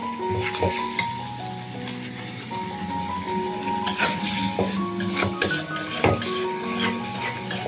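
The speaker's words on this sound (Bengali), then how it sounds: "আদা রসুন টমেটোটা ভালো করে কষিয়ে নেব, কাঁচা গন্ধটা চলে যাওয়া পর্যন্ত" Ginger, garlic and tomato paste sautéing in a pan for a village-style duck curry, with a steady close sizzle broken by repeated metallic stirring clinks and scrapes throughout.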